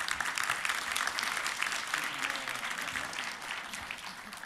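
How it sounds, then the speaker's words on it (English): Warm audience applause for panel members at an Arctic policy conference, a full, sustained crackle of many hands clapping at steady loudness throughout. "give them a very warm round of applause"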